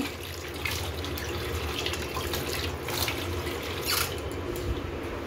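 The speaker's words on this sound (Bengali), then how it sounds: "দাঁড়াও একটু হাতটা ধুয়ে নিই, পুরো জল জল হয়ে গেল হাতটা।" Hands being washed under a running tap: a steady close splash of water with intermittent louder splashes and drips as the hands move through the stream, no talking.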